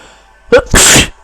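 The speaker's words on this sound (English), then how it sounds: "Oh no, I'm gonna sneeze." A person with hay fever lets out one loud, close sneeze, a brief sharp intake followed by a forceful burst, with a quiet background.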